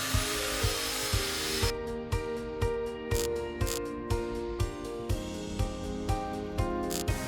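Rebar being coiled around a metal rod for a handmade hammer produces a steady tool drone with sharp, evenly spaced metallic clanks roughly every half second, loud and close.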